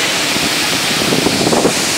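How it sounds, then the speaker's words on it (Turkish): The waterfall at Oum er-Rbia roars as a loud, steady wash of rushing water, close by and mixed with gusts of wind buffeting the microphone, with no talking. "Güzel bir şelale."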